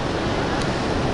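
Continuous rushing of Atlantic ocean surf on a Brazilian shore, a loud, dense wash of noise with no distinct breaks and a hint of wind.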